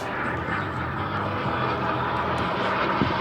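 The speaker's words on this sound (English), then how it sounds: "he's getting ready to power that engine for a 7 or 8 minute flight" A model airplane engine in flight drones steadily and fairly loudly throughout, a continuous even buzz with no break and no voices.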